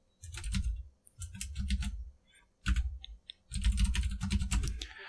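Bursts of typing on a computer keyboard while writing CSS color code in the Brackets editor, close and crisp, in several runs separated by short pauses, with no talk.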